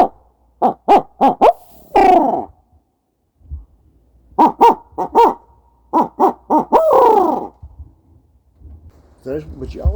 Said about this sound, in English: with the crow call or the owl hooter